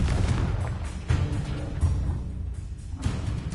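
Explosive Confringo and Bombarda spells from Hogwarts Legacy combat, a run of booming blasts and bursts in quick succession with short gaps between them.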